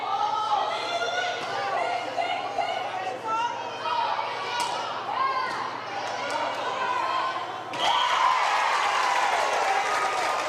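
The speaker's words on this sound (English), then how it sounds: "And you can hear how loud the crowd is tonight" A packed crowd at a senior night college volleyball match cheers and applauds while a commentator talks over it, the noise swelling noticeably louder for the last few seconds.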